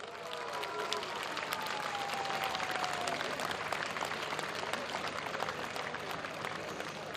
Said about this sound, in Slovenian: gromek aplavz si zaslužita legendarna partizanski pevski zbor in pihalni